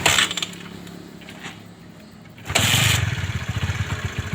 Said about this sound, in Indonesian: lalu kita engkol lagi supaya kita hidupkan keretanya